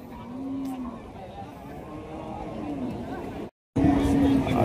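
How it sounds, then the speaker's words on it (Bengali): Cows at a bull cattle market in Bangladesh, with low drawn-out moos rising over a background hubbub of crowd chatter and passing traffic, then a loud, close moo after a brief cut. "দেশি এই গরুটা আপনারা দেখছিলেন"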